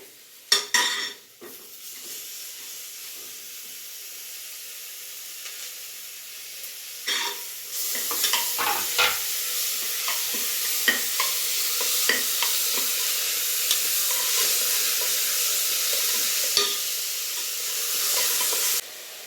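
Three chopped tomatoes hit hot oil in a pan for mutton head curry, a loud steady sizzle with sharp scraping and clanking from stirring, starting with a few clatters and building into continuous frying.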